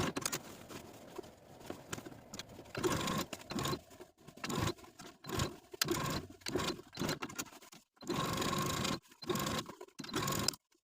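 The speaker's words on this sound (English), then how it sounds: "just stitch as far as you can, end your stitching, and then start a new stitch on the other side of the point" A sewing machine stitches the facing of a 1960s-style vintage dress in short bursts separated by brief pauses, close and moderately loud, with no talking.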